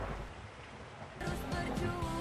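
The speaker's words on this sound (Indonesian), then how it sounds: "Seiring berjalannya waktu, musim hujan pun kembali datang." Steady rain falling at the start of the rainy season, a dense hiss that thickens partway through, with scattered drop impacts.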